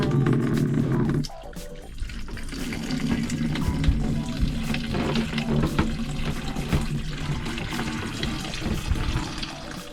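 Fresh water pouring from a sailboat's watermaker outlet, a steady close splashing flow like a running tap filling a sink, continuous throughout with no talking.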